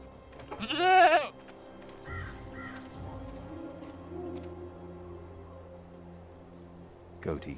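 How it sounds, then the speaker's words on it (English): A goat in the Dreamfall Chapters video game gives one loud, wavering bleat near the start, followed by quiet game ambience with soft rustles and faint chirps. "Goat eats leaves. Goat falls asleep."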